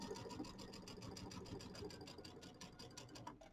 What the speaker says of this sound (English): we're going to stitch our 1/4 inch seam again